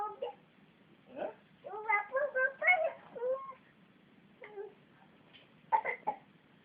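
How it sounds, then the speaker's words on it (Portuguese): A child makes a few short, rough coughing and whimpering sounds in bursts, close by, with quiet pauses between them. "Tá com tosse, filho?"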